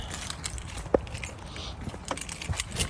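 Car keys for a BMW 740iL jangle close by in a quiet space, a light, continuous metallic rattle with one sharper clink, over faint background noise.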